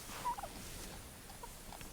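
Black Spanish turkeys out foraging on an Oklahoma farm give a brief gobble near the start, faint and somewhat distant over steady outdoor background noise.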